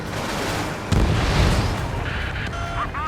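A missile explosion in the Ace Combat 7 video game, a booming blast rising out of dense roaring jet and combat noise, loud and continuous, with faint electronic tones sweeping in near the end.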